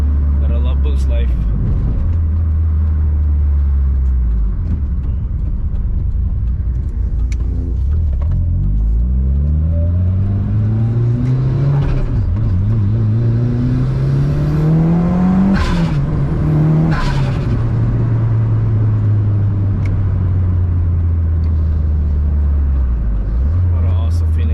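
Mitsubishi Evo 8 engine accelerating hard under turbo boost, the loud droning note climbing through gears with shifts between pulls, heard from inside the car.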